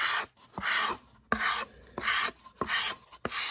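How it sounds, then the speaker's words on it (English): A sanding block with finer grit paper rubbed over a balsa model aircraft wing, five or six close rasping strokes in an even back-and-forth rhythm, clear and alone. "take your block and flip it from the 80 grit over to the finer grit sandpaper"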